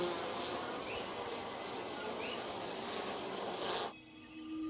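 Honeybees sharing a cave with bats fill the air with a dense, steady insect buzz that holds at an even level, then drops off abruptly near the end to a quieter background.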